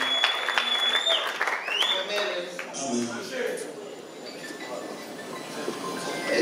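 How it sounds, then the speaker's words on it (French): Audience applause at a conference in a hotel, clapping that starts fairly strong and thins out, mixed with whistles, clinks and background voices. "Vous pouvez applaudir mon papa"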